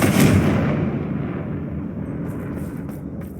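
A Confringo blasting spell explodes in the Hogwarts Legacy video game, a loud booming burst at the start that rolls into a long rumbling decay, with faint sparkly tones near the end.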